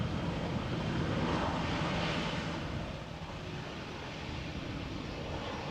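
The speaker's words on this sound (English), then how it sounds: "So this was EasyJet A320 arriving from Bristol." An easyJet Airbus A320 coming in to land at Amsterdam Schiphol, arriving from Bristol, gives a steady broadband jet roar. It is loud at first and eases slightly as the aircraft passes, with no voices.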